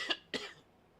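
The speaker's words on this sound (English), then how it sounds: "I wish I could read this without coughing." A pair of sharp, close coughs, the second somewhat longer and rougher than the first, then quiet room tone.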